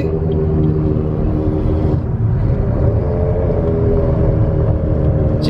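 A loud engine roars steadily under hard acceleration, a deep sustained rumble with a rising whir, close by and uninterrupted for several seconds, from a 2009 Suzuki GSX-R600 or 2016 BMW 340i xDrive.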